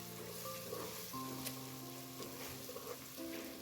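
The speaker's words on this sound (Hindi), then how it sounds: "अदरक लहसुन का पेस्ट मीडियम फ्लेम में अच्छे से कुक हो चुका है।" Ginger garlic paste frying in a pan over a medium flame for a Kashmiri chicken masala, a steady close sizzle and crackle running the whole time with a few faint clinks, no voices.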